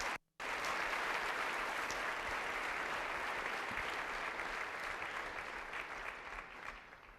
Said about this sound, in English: Please give us all one last round of applause.